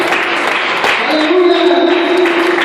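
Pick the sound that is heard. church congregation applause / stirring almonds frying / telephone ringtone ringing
church congregation applause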